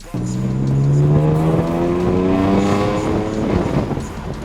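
A BMW M4 fitted with an Akrapovic exhaust revs hard, its engine note rising steadily with a rich harmonic tone, loud and close, then holding and easing off over several seconds.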